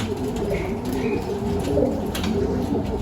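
Pigeons cooing inside a breeding loft and aviary, soft repeated low coos from several birds close by with a few brief higher chirps, over light ambient noise.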